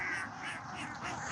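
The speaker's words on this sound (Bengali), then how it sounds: "আমার পিছনে দেখেন এদিকে অসংখ্য হাঁস আছে।" A large flock of five-month-old laying ducks at a duck farm calls in a dense, steady chorus, loud and continuous from start to end with no speech over it.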